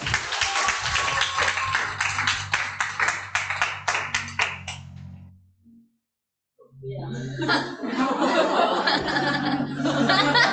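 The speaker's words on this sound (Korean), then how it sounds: "박수 한번 치겠습니다" Applause and scattered claps from an audience at a Korean Nu Skin business group meeting, dense and steady for several seconds, then breaking off into a gap before a second loud burst of clapping mixed with laughter and crowd noise.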